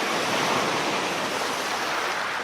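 Ocean waves crash against the rocky cliffs of the Big Sur coast as a loud, steady broadband roar of surf and spray, continuous throughout with no voices.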